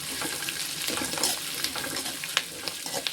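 Green chillies frying with onions in a pan for vermicelli kichadi, a soft steady sizzle with light stirring scrapes and small crackles throughout.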